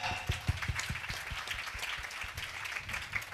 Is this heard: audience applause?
yes